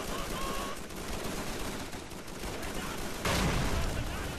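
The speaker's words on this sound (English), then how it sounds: "that grenade took a minute to blow up" Amid dense, continuous gunfire in the Call of Duty 3 battle, a grenade goes off with a sudden loud burst that lifts the whole noisy din toward the end.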